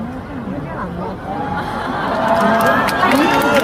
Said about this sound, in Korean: 물 마시면 이거 환호를 해줘야지 안 어색하거든요